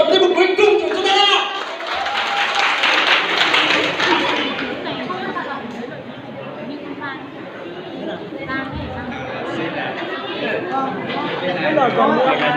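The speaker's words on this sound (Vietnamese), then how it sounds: "xin mời các bạn cho một tràng pháo tay để đón chào tiết mục cuối cùng của chúng ta" An audience at a stage performance claps for the final act. Dense, steady applause runs throughout, with crowd chatter mixed in and loudest in the first few seconds.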